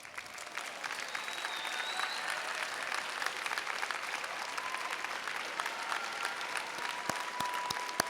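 A graduation ceremony crowd at Valle Verde Early College High School applauds the graduates' families, with steady dense clapping that fills the hall for the whole stretch, evenly loud and sustained.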